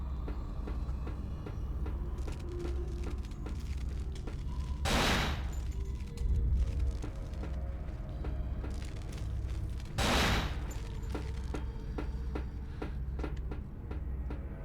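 Two sharp, loud gunshots ring out about five seconds apart in the video game Cold Fear, over a steady low rumbling ambience.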